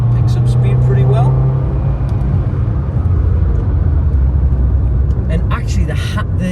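A Mercedes 190E 2.5-16V, thirty years old, accelerating on the road, its engine rumbling loud and steady from inside the cabin, with someone talking over it.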